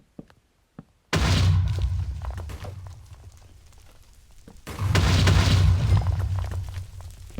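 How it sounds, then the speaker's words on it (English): Two loud explosions in the Nether of the video game Minecraft, each a sudden heavy boom that rolls into a long rumbling decay. The second blast comes a few seconds after the first fades, with no talk. "Oh, so that's an explosion in the nether."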